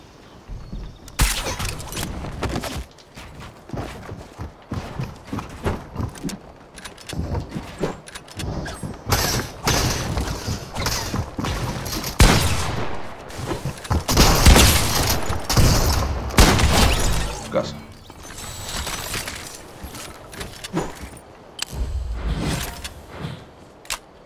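Repeated gunfire bursts in Fortnite Battle Royale, irregular volleys of shots with some mechanical clatter in between, moderately loud and without talk.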